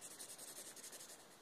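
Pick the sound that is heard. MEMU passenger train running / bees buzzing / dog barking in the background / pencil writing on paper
pencil writing on paper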